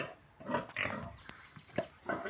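Pigs on a pig farm grunt and squeal in several short, close, irregular bursts, with snorting noises between them.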